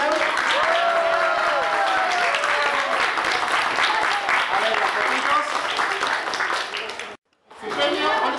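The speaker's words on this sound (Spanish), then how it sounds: "Fuerte los aplausos a Juan Sebastián" Children and parents at a robotics championship award ceremony applaud loudly, with excited voices and cheering mixed in; the sound cuts out briefly and then resumes.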